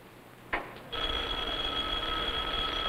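A telephone on a 1955 live television game show starts to ring with a sharp click, then gives a steady, continuous electric bell tone that carries on to the end.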